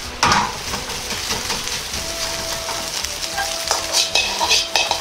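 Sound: stir-frying in a Chinese wok with a ladle

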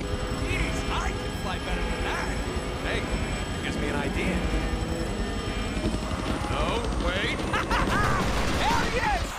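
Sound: helicopter in the Deadpool video game

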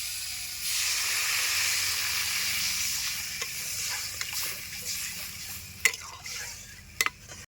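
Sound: water poured onto sautéed vegetables in a pan

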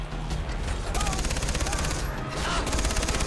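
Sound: machine gun fire in video game Far Cry 3

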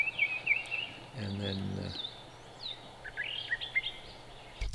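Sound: brown thrasher singing

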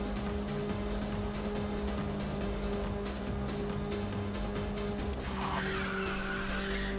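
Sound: car drifting with skidding tyres in the video game Ridge Racer 6

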